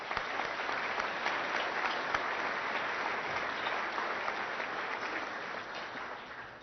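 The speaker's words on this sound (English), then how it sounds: "Give yourself a good round of applause." Steady, even applause from an audience at a chamber of commerce event, a moderately distant, uniform patter of many hands that tapers slightly at the close.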